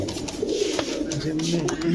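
Caged army pigeons, a large-bodied breed, coo softly in a low repeated rhythm while people talk nearby.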